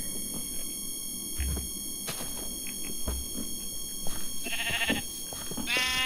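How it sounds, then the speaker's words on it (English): Baby sheep bleating in the Minecraft video game, with a few short, high bleats standing out against a steady electronic hum and game background noise. "Or else I'll kill this baby sheep."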